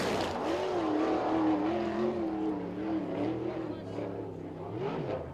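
A Peterson Chevy-powered DRC USAC sprint car runs a qualifying lap on the Lawrenceburg Speedway dirt oval, its engine wailing loud and continuous with pitch rising and dipping through the turns, while a commentator talks over it.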